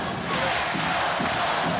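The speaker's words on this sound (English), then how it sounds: "Crowd chanting." A crowd at a women's college volleyball match between Hawaii and Pacific in an arena, a dense, steady wash of massed voices chanting and roaring, loud and continuous.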